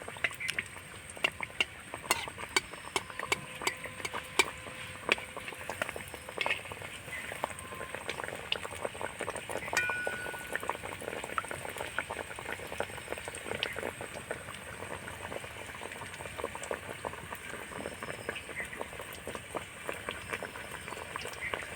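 Small pieces of nimki dough frying in hot oil, a dense, steady crackle and fizz of bubbling that carries on softly and continuously at close range with no talk.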